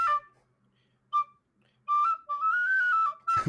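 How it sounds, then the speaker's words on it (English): A tin whistle plays a few short piping notes, then a longer wavering held tone, bright and clear against near silence, with pauses between phrases. "it's a tin whistle"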